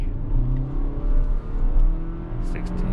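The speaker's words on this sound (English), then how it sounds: "let's try some acceleration from 50" A 2023 Honda WR-V accelerating hard from 50 km/h, heard from inside the cabin: a loud, steady engine drone with a rising whir that climbs as the car gathers speed, with faint tire and road noise underneath.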